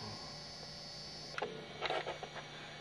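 A motor drive on a replica Lamborghini deck lid hums faintly and steadily, then a few quiet mechanical clicks and clunks sound as the lid latches and pulls down snug.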